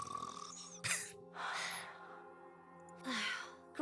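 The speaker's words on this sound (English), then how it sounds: "Gretel and I think Ave's snoring is goddess level." A character in the game NIKKE snores in slow, soft cycles, each drawn-out breath rasping and fading before the next, with a faint tonal hum underneath and no speech.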